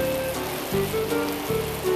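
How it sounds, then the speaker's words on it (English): Rain falls steadily as a storybook sound effect for a small car out with an umbrella, a soft even hiss of drops on surfaces with a few faint tonal chimes layered over it, quiet and constant. "So out in the rain he went with his umbrella."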